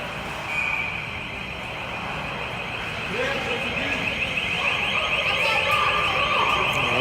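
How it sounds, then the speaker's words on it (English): An open-door alarm sounds at an ice rink during a U14 hockey game, a steady high electronic tone that holds through most of the stretch, with arena crowd noise and rumble underneath. "Open door alarm."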